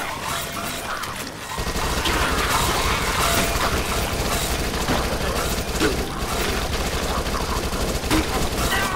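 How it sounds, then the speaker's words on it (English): Repeated shotgun blasts in the zombie shooter Dead Nation, a dense barrage of loud rapid shots layered with mechanical clatter, continuous and close after a quieter opening second. "Shotgun."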